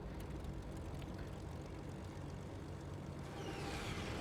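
A plane engine on Wuhu Island in a video game makes a faint, continuous droning hum. A brief rising whine swells near the end.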